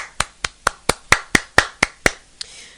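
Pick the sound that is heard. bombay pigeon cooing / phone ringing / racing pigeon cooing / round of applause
round of applause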